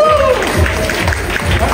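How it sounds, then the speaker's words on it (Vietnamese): An audience applauds two lucky prize-draw guests at a live event, a steady clatter of many hands under a speaking voice, a sung melody drifting faintly behind. "Chúng ta vỗ tay cho hai vị khách đúng không"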